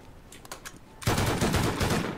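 Gunfire in the survival game Rust: a few sharp shots at first, then a sustained loud burst of rapid automatic fire.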